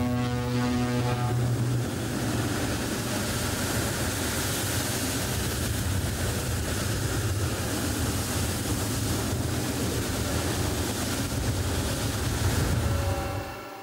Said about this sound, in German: Ein Sturm dieser Größenordnung kann der Severstal nicht viel anhaben.